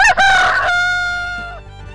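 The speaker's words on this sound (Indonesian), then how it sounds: "Ternyata kita dapat ayam betina nih." A rooster-like fowl call, a loud, close, drawn-out crowing cry that rises and then trails off in a long falling tone, heard alone.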